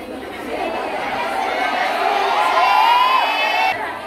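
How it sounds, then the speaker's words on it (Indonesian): Crowd at an Islamic religious gathering cheering and shouting with excited chatter, a loud, dense mass of voices swelling steadily and then easing off near the end. "Tepuk tangan untuk saudara-saudara kita ini."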